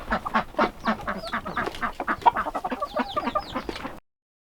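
A flock of chickens in a chicken barn clucks and chatters continuously, many overlapping close calls with occasional higher squawks, steady and fairly loud with no talk.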